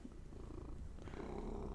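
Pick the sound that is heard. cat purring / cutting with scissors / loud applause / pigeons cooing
cat purring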